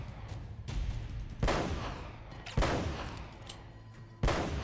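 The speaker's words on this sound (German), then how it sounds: "Verschwende ich meine Schüsse hier." Sharp gunshots ring out in Uncharted: Drake's Fortune, three loud isolated blasts spaced over a few seconds, each followed by a decaying echo, with no talking.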